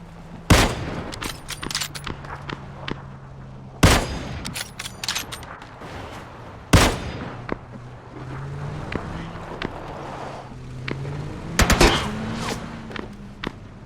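Gunfire in the PUBG battle royale game: loud, sharp single shots and quick bursts at irregular intervals, some rapid volleys, over a constant hum of wind and engine noise, with a player talking in between.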